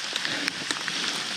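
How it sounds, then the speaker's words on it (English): Steady, constant rain, not especially heavy, falls on the ground and waterproof ponchos during a long-distance walk, a close, continuous hiss with faint patters and no talking. "it's not super heavy rain, but it's constant rain."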